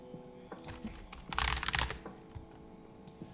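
Keys of a Razer Huntsman Tournament Edition keyboard clatter in quick irregular bursts, with a dense flurry of typing in the middle, close and fairly quiet over a faint hum.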